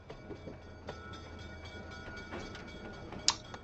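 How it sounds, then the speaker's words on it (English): Moving train interior ambience in the video game The Deed, a steady low rumble with faint periodic clicks and a brief sharp high clank near the end, quiet and continuous with no talking. "Oh, yeah, we're on a train."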